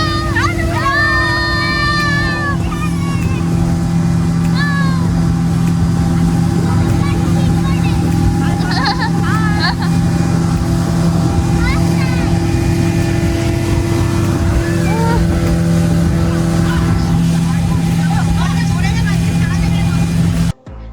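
Speedboat engine droning steadily on Patratu Lake at sunset, with water rushing past the hull and a crowd of passengers chattering and calling out over the continuous motor noise throughout the ride.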